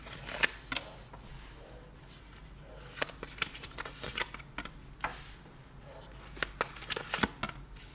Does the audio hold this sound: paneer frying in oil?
no